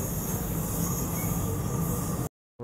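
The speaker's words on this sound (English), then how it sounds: "there the train is coming" A train arrives at Malmö station with a steady, loud rumble and rail noise and a faint high squeal of wheels, continuing without talk until the sound cuts off abruptly.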